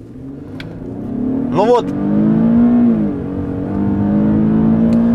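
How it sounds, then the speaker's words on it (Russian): A 3.7-litre Infiniti QX70 revs up at a two-footed launch start, then pulls away, its engine note climbing and holding close and loud while someone speaks briefly over it. "Стартую с двух ног, держу педаль тормоза, поднимаю обороты, вижу, что тачка готова, поехали."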